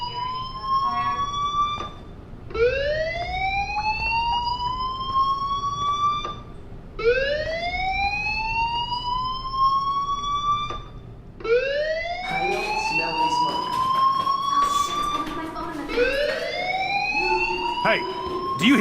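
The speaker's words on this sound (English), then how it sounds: "Hey, do you hear that fire alarm?" A fire alarm in the video game Life is Strange wails in repeated rising siren sweeps, each lasting a few seconds with brief gaps, loud and close. Other sounds pile in near the end.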